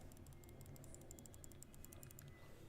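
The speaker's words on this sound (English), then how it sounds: "I'm clicking very intensely." Rapid, dense clicking while playing Roblox, a fast run of sharp, closely spaced taps carried on steadily for a few seconds over a constant low background hum.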